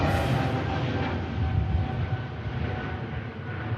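A 220 airliner taking off at Manchester Airport behind an EasyJet plane gives a steady, loud broadband jet roar that holds throughout without letting up.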